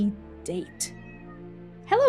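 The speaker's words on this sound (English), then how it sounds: "That's my cat." A pet cat meows twice, a short call near the start and a louder, longer drawn-out meow at the end, close to the microphone, with a voice speaking briefly in between.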